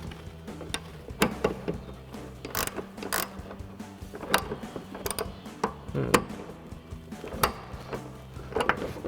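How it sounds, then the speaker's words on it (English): A 17mm ratcheting wrench tightens the top mounting nut of a coil-over on a 2016-2024 Camaro, giving irregular bursts of clicking ratchet ticks with small metallic knocks, close and moderately loud. "17mm ratcheting wrench to do so"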